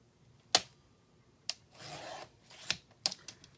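Decoupage paper being trimmed on a Halloween lantern: a few quiet, sharp snips and taps spaced irregularly, with a soft rubbing rasp in between, close up and with no talking.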